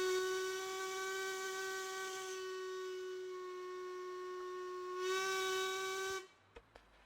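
A steam locomotive whistle from an Ivatt 2MT in a train simulator game, one long steady chord held for about six seconds, loud and close, swelling briefly near the end before cutting off into a few faint clicks.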